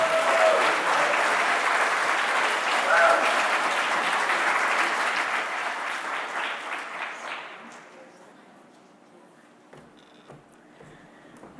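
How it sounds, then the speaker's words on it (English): A large audience at a national gathering on unmarked burials in Montreal applauds loudly and steadily, then the clapping thins and fades out, leaving a quiet hall with faint scattered sounds. "Let's have a big round of applause."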